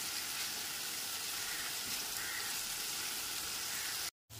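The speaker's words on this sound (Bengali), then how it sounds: "পেঁয়াজের সাথে আদা, রসুন আর পেঁয়াজের পেস্টটা খুব ভালো মতো কষিয়ে নিতে হবে" Onion, ginger and garlic paste frying over medium heat in a pan, producing a dense, continuous bright sizzle that fills the whole stretch without talk, then cuts out abruptly near the end.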